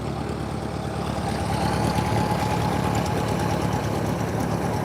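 Light aircraft engines doing their pre-flight run-up at a busy airfield on a nice day, heard as a steady, continuous droning rumble with no talk.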